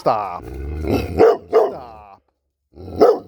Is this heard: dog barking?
yes